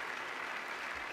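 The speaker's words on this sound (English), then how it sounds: "We're applauding the tape technician now." A studio audience applauds a tape technician during a Eurovision Song Contest documentary, giving a brief, soft, steady patter of clapping heard from some distance.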